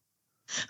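A man sneezes once, a short loud burst close by in an otherwise quiet room, alone without talk.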